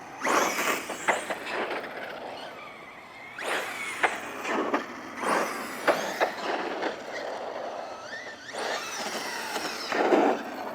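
A Tekno MT48 2.0 1/8-scale RC monster truck drives hard and pops wheelies, producing several loud bursts of whining electric motor and scrabbling tire noise, separated by brief lulls.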